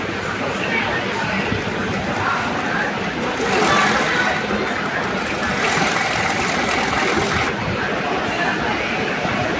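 Duke DY1417 17-needle smocking sewing machine running, a steady rapid mechanical whir and clatter that grows louder in the middle stretch, with a voice talking over it.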